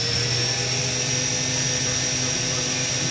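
A Hurco VMX-42 vertical machining center's spindle runs at high speed, a steady loud whine with a sharp high tone over a broad mechanical roar, holding constant throughout with no talk.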